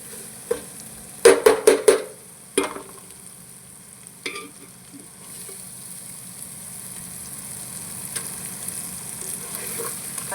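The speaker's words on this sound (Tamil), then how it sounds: "அப்படியே கொஞ்சம் பொரியட்டும்." Onions frying with ginger garlic paste in a pan for chicken biryani: a soft, steady sizzle runs throughout, broken early by a few sharp clanks of stirring against the pan.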